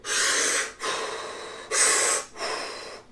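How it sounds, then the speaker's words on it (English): A scuba diver breathes hard through a primary regulator, four loud, close rushing breaths in a steady in-and-out rhythm with short pauses between. "look at their SPG and breathe very hard"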